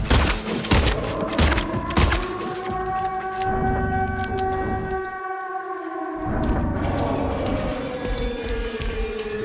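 Rapid bursts of gunfire from the Silent Hill 2 Remake video game during the first Pyramid Head fight, loud sharp shots in quick succession at first, then sustained eerie tonal drones and clanking game sounds without talking.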